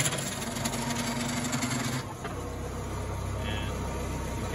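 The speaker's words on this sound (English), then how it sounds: "So here goes the engine." An older Bobcat skid steer loader engine starts up and settles into a steady, rumbling idle, running continuously at moderate loudness.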